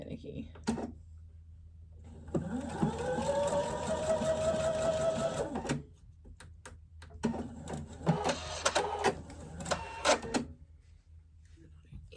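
A sewing machine runs steadily for a few seconds, stitching quilt block pieces for a corn and peas quilt block, with a hum that rises and then stops, and quieter handling sounds follow.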